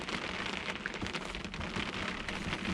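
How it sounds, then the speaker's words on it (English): Steady, dense patter of rain drumming on the fiberglass roof of a truck camper shell during a rainstorm, heard from inside: a continuous close hiss with scattered heavier drops and no talking. "It's like rain on a tin roof, rain on a fiberglass roof."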